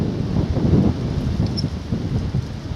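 Gusty wind blowing across the open flatland of Romney Marsh on a chilly, breezy day, a continuous low buffeting roar against the microphone with no voices.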